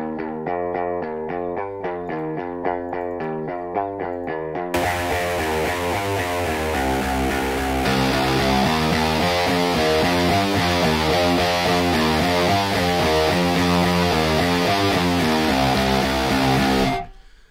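Virtual-amp electric guitar part doubled with a 10 ms delay for stereo spread; repeated picked notes give way to a thick, distorted, wide strummed riff that plays continuously and loudly before stopping abruptly.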